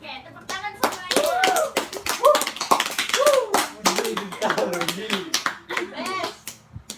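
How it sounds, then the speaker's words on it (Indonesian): A group claps together in a burst of applause after a role-playing game in an Indonesian group counseling session, with children's voices chattering over the clapping throughout. "tepuk tangan semuanya"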